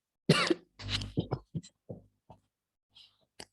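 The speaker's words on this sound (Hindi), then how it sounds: "मैं असल में खांस रही हूँ।" A woman coughs a few times in short, sharp, close bursts, with a couple of quieter throat sounds after them.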